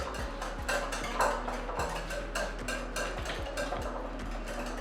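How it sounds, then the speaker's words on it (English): A whisk clicks and taps against a bowl while wet cupcake ingredients, including vanilla, are mixed in a kids' cooking kitchen, giving a quick, irregular rhythm of light metallic knocks at close range. "So whisk, mix together"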